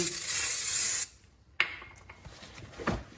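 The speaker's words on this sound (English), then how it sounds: "So I'm just going to grab some brake clean" A loud hissing aerosol spray of brake cleaner onto a brake rotor of a 2010 Town and Country blasts for about a second, stops, then a short burst follows along with light rubbing and handling noises.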